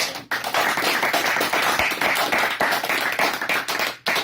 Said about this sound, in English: One big round of applause for the group